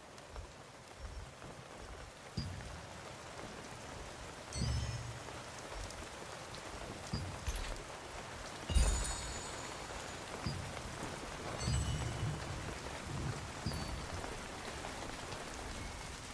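Rain falls steadily in the fantasy MMO game Throne and Liberty, a quiet continuous hiss with a few louder splashes and soft thuds scattered through it, no voices.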